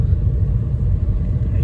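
Thunder rumbling overhead during a heavy rainstorm in Goa, a loud, deep, continuous low rumble filling the whole moment, close and uninterrupted.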